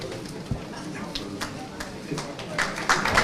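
Applause from a conference audience honouring a speaker at a legal lecture on criminal procedure: dense, steady clapping that swells toward the end, with a voice talking over it.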